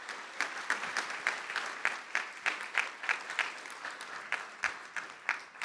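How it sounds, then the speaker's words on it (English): Conference audience applauds panelists after a panel discussion, steady moderate clapping of a modest crowd with distinct individual claps, fairly even throughout. "So may I invite everyone once again to give our panelists a very warm round of applause to thank them."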